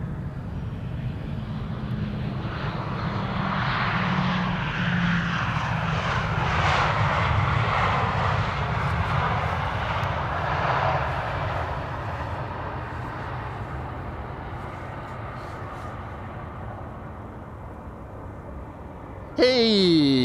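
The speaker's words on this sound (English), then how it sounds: "Just got the 747 and now an A340, perfect timing." An Airbus A340 airliner arriving at an airport, its engines roaring loud and near as it passes, the swell rising, peaking, then slowly fading, with a brief sharp sound at the end.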